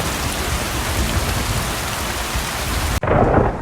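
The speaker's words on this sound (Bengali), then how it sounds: "এই অসময় এমন বৃষ্টি নামলো কোত্থেকে?" Heavy rain pouring down with rolling thunder in a cartoon night storm, a loud, constant hiss of rain that cuts off abruptly near the end into a softer, deeper rumble.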